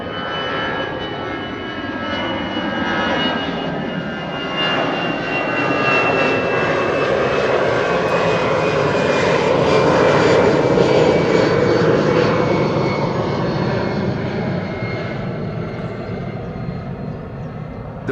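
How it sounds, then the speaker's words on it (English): An Airbus A350 departs from runway 24 at Amsterdam Schiphol, its jet engine roar loud and sustained, swelling toward the middle and easing slightly as it climbs away. "The first A350 is underway."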